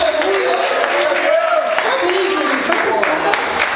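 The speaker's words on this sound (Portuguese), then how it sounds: "você pode aplaudir e exaltar a Deus nessa noite" A church congregation applauds during an evening service, giving a loud, continuous wash of clapping and crowd noise with a preacher's voice carrying over it.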